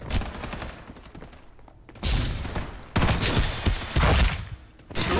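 Heavy bursts of gunfire in the Farlight 84 battle royale shooter come in loud, dense volleys, with a quieter stretch early on and then several powerful clustered shots near and punchy.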